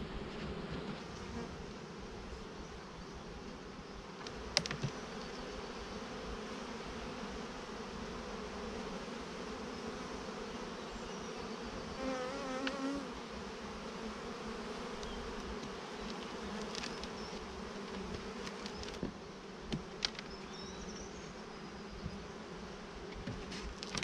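Honey bees at an opened hive during a colony inspection, a continuous dense buzzing that stays close and steady throughout, with occasional faint clicks and handling noises.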